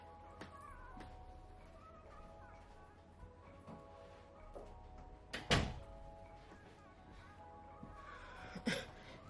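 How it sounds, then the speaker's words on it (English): A restroom door closes with a sharp knock near the middle, followed later by a second brief clatter, against quiet indoor room tone with light movement. "I'm just noticing my restroom door is open. Let me go ahead and close that real quick."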